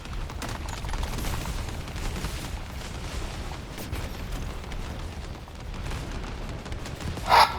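Rapid gunfire from the looter-shooter video game The First Descendant, a dense, continuous clatter of shots and impacts with low rumbling bursts, steady throughout and ending in a louder sharp burst.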